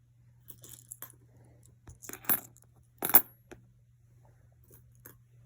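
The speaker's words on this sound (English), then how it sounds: "We are going to erase this and grab some coins and practice counting with some coins." Dimes, nickels and pennies are handled and dropped onto a surface during a math counting lesson, with scattered metallic clinks and two louder jingling clusters against a quiet background hum, no speech.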